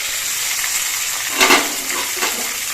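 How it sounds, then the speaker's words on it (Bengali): Boal fish fry in a pan with a steady, close sizzling hiss, a brief louder crackle midway, no voices. "মাছগুলো দু দুটি ভাজা হয়ে গেছে এবং মাছগুলো আমি নামিয়ে নেব"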